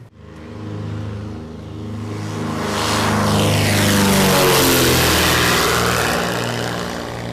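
A small propeller airplane flying over the sea near Palawan drones loudly and steadily, its engine hum swelling as it passes close, with a sweeping shift in pitch and no voices.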